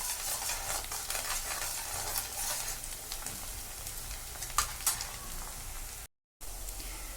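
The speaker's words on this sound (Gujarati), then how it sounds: "જે બે મરચાં નાના લીધા હતા સમારીને એ આમાં એડ કરી દઈશું હવે અને આને બી થોડીવાર શેકાવા દઈશું" Chopped green chillies and onion roast in a hot pan, giving a continuous soft sizzle broken by stirring scrapes and a few sharper clicks, close and moderately loud with no talking.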